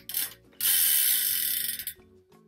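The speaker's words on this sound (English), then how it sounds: "Just spin it really hard so it changes." A Bean Boozled spinner wheel is spun hard and whirs with a dense, fast ratcheting click. The clicking stays loud for over a second and then slows and stops, with no talk.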